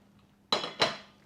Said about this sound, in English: So I'm just showing you how you can mash them up with your potato masher.